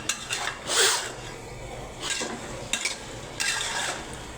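Taro curry in a pot is stirred with a spoon in a few separate bursts of scraping and rustling, over a soft background sizzle, with short pauses between the strokes.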